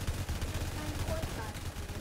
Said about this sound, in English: My minigun is my turret back here.